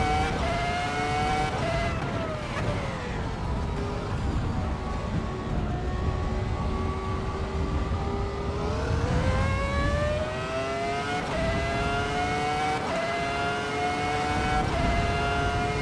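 A 2004 Ferrari engine in a racing simulator, revving up and down through repeated rising and falling pitch sweeps, loud and continuous with gear-change dips throughout.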